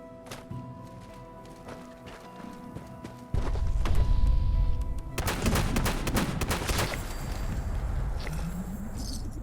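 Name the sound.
gamma gun firing in video game Fallout 76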